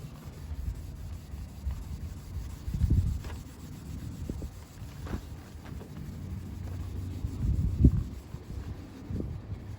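A terry cloth bath towel rubs paint cleaner over faded single-stage red car paint in close, uneven swishing strokes. The rubbing swells in bursts, with a few louder scrubs, and no one speaks.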